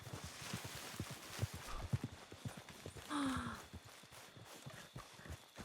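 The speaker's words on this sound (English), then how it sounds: "this horse got fucking spooked" Horse hooves in the Red Dead Redemption 2 video game: a run of quick clip-clop steps on the ground, followed by a short, faint whinny from the spooked horse, fairly quiet overall.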